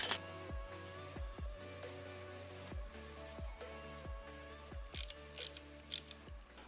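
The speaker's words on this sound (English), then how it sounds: "I'm gonna bolt up the brake line and seal things up." A motorcycle brake line is bolted up on a CR250 project. A ratchet clicks through a steady series of quick, close pawl ticks, followed by a few louder, sharper metallic clicks near the end.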